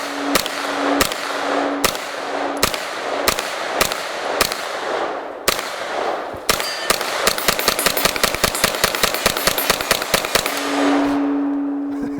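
Rapid gunfire from a PSA GX-9 9mm AR-15 rifle at a shooting range: a series of spaced single shots, then a fast string of sharp, loud cracks in quick succession, with no talking.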